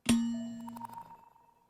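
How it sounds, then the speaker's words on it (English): A menacing bell sample from a UK drill sample pack rings out with one sharp metallic strike, followed by a ringing tone with fluttering overtones that decays over about a second and a half, clean and alone. "Menacing Bells."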